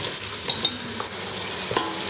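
Tomatoes sizzling gently in a pan among mint and coriander for an Indian pulao, with a few soft utensil scrapes and taps from stirring over a steady low frying hiss.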